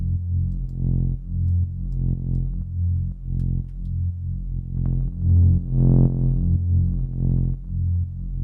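A deep, gritty synth bass through wave shaper distortion pulses in a steady repeating pattern, its notes swelling and fading with a slightly distorted, saturated tone.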